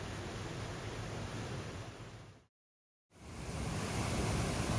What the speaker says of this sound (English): Really quite a big waterfall over there in the Bird River.